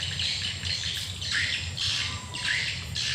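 Maleo bird calling in a series of bright, repeated squawking cries, close and fairly loud over a steady low background rumble.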